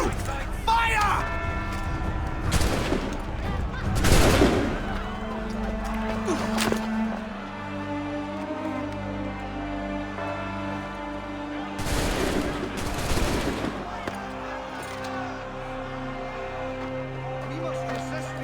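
A volley of gunfire in Assassin's Creed III: several sharp, loud broadband bursts of musket fire near 3–4 s and 12–13 s over a continuous bed of orchestral music, with voices talking.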